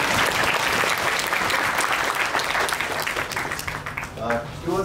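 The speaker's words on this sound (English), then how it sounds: "So a round of applause for him." A conference audience at an international tunnelling event applauds steadily for several seconds, dense, even clapping filling the room, with a voice emerging faintly near the end.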